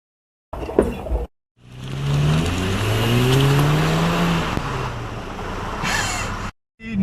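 A small car with a powerful engine accelerates hard, its revs climbing in rising sweeps through the gears, loud and close, framed by brief bursts of noise at the start and end.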